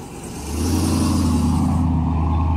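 A 2021 Ram TRX pickup truck starts driving off, its engine swelling from quiet into a deep, loud, sustained rumble that holds steady close by, with no voices.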